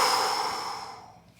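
A single long, close exhale during a hamstring and hip stretching routine, breathy and loud at first, then fading to near silence.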